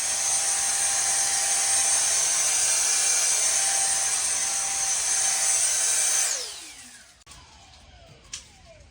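A Ryobi handheld blower whines loud and high as it blows leaves out of a groove, then spins down with a falling pitch, followed by near silence and a faint click.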